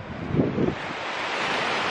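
Rio Mindo near the Mindo waterfalls in Ecuador, a steady broadband rush of flowing river water mixed with wind buffeting the microphone, continuous and fairly loud throughout.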